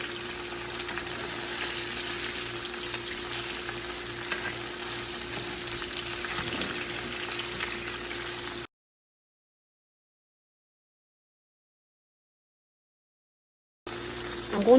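Potatoes and onions fry in a pan for a Southern country dish, with a steady close sizzle and crackle under occasional stirring, then a sudden gap of silence before the frying sound briefly returns.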